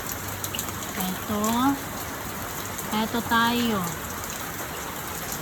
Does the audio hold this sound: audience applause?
no